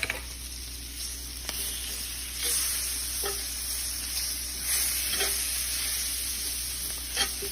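Onions and all-purpose flour fry in a pan with a steady sizzle and hiss while a utensil scrapes and stirs now and then, close and continuous with no talk.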